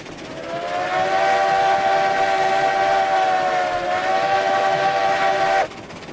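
A steam locomotive in the train game Railroads Online lets out a loud, sustained chime whistle that holds steady for about five seconds before cutting off sharply, with a soft rumble of the running train underneath.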